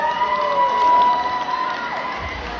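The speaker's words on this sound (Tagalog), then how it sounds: "Sabay-sabay niyo po akong palakpakan at hiyawan" Crowd at a Miss Gay beauty pageant cheering and shouting, with scattered clapping, steady and fairly loud across the whole stretch.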